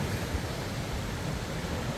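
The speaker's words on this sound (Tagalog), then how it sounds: "Oh, tingnan niyo naman yung alon." Ocean waves surging at the port in Itbayat, Batanes, a continuous broad wash of surf and wind noise, steady and fairly loud with no voices.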